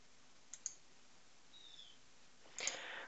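A computer mouse gives a quick pair of faint, close clicks, then another single click after a short quiet pause in an otherwise silent room.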